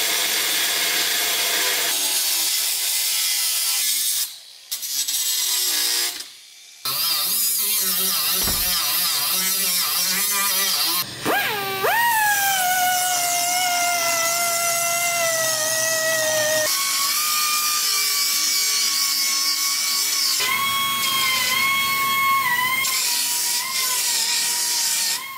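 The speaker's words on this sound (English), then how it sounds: "now that we have the finger sander, make it look a little nicer" A finger sander shapes an aluminum TIG-welded part, giving a loud, close, continuous whine whose pitch climbs and sags as pressure changes, broken by a few short pauses.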